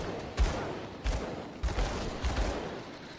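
Gunfire from two guns in the action RPG Grim Dawn: a handful of separate dull, booming shots spaced irregularly over a few seconds against a low rumbling background, with no talking.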